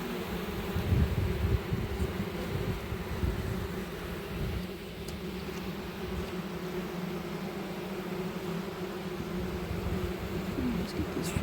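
Honey bees in an opened hive during an autumn inspection hum in a steady, droning buzz that fills the whole stretch at moderate loudness.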